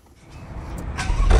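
A 580 hp Maserati Quattroporte Trofeo engine starts up and swells from a low rumble into a rising, nearby roar over a second or so.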